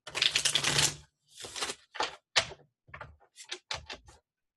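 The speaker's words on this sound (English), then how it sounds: "I'm a riffle shuffler" A tarot card deck is riffle shuffled close by in several quick bursts, crisp fluttering riffles of cards alternating with short pauses.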